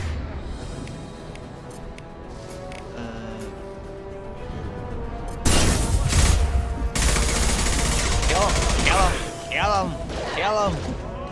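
Gunfire in a combat room in Mass Effect 2 Legendary Edition, a dense loud barrage breaking out midway after quieter ambience, with voices over the shooting.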